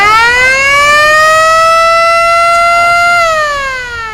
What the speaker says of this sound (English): you've got more of an authentic siren that would have gone with the ambulance or the fire.